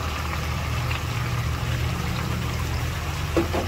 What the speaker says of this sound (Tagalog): mag-add tayo ng mainit na tubig